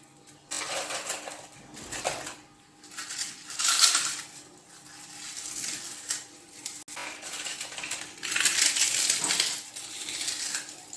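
Crunchy papdi chaat is being mixed in a bowl, making crisp crackling and rustling in several bursts. Quieter pauses fall between the bursts, and the sound stays close and moderately loud throughout.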